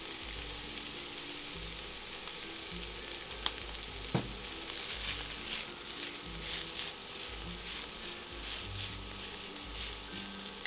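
Onions, or shallot, fry in a pan with chili powder added. A continuous sizzle runs throughout, broken by stirring scrapes and a couple of sharp utensil taps against the pan.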